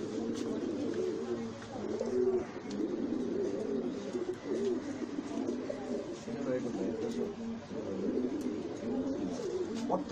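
Pigeons being raised for sale coo steadily throughout, a soft repeated rolling murmur close by with overlapping calls, while people talk now and then underneath.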